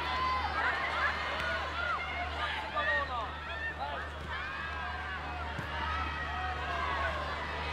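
Spectators at a U-20 women's football match between Germany and France make a steady, distant roar of crowd noise that runs throughout, with scattered whistles and shouts and a commentator talking over it.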